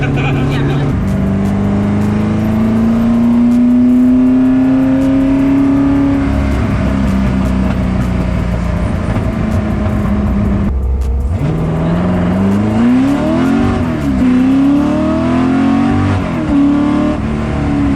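A Ford GT40 engine roars loudly and steadily from inside the car during a ride-along, climbing in pitch, briefly dropping off near the middle, then revving back up through rising and falling gear pulls.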